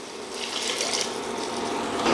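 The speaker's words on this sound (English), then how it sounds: "Then we're going to throw a cup of water in." A cup of water poured into a cooking pot holding a vinegar-based red onion sauce, a steady hissing splash lasting about two seconds, close and fairly loud with no voices.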